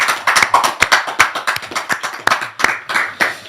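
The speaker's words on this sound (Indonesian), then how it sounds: "Tepuk tangan buat Gus Islah Bahrawi." A crowd applauding, with a burst of sharp hand claps at a lively uneven rhythm, close and loud, fading briefly before picking up again.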